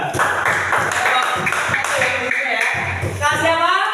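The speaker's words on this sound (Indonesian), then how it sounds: "Tepuk tangan untuk semuanya." Students in a classroom clap in a steady, patterned rhythm, close and fairly loud, with voices running alongside the claps.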